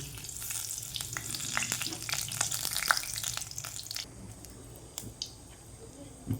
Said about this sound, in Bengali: একটা তেজপাতাকে কেটে দিলাম দারচিনি লবঙ্গ এলাচ দিয়ে দিলাম